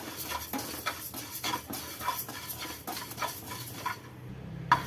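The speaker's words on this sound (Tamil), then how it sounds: "இந்த பச்சரிசி இப்போ நம்ம வறுத்துக்கலாம்." Raw rice dry-roasting in a kadai, stirred with a spoon: a steady run of close, rhythmic scraping and light rattling strokes roughly every half second, fairly quiet, with no talking.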